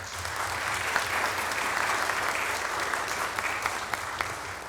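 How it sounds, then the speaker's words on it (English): Audience at a city council meeting applauds steadily for an honored public works employee, a dense, even wash of many hands clapping at moderate distance, sustained without pause. "So let's give him a round of applause."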